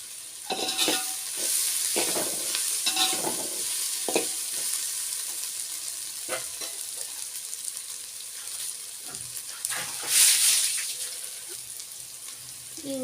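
Ingredients for a pulao sizzle steadily in plenty of hot oil, with repeated stirring scrapes and a brief louder burst of spattering near the end, heard alone without talk.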